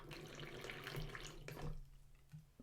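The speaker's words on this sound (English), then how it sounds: "I just started pouring some tea again." Tea poured into a cup, a steady liquid trickle and splash running for about two seconds before tapering off, quiet and close with no talk over it.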